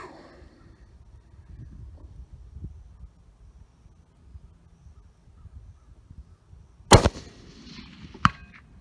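A custom-built 7mm RSAUM rifle fires one loud, sharp outdoor report that rolls off as an echo, with a second, fainter crack a little later, after a long quiet stretch of faint field noise.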